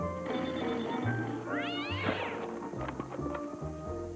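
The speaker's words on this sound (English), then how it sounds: "First you bring home a cat" A cat meows in a comic commercial spot, its rising-and-falling cry standing out clearly over steady music and background sound.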